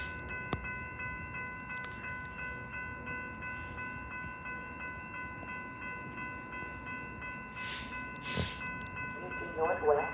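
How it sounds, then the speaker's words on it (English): Union Pacific Northwest commuter train to Chicago pulls into a station with a sustained horn chord and low rumble, fairly distant, with squeals and clatter rising near the end. "UP Northwest train number 670 to Chicago OTC is now arriving."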